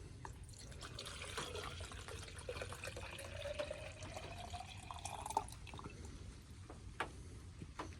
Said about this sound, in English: So let's pour the water into this cup here.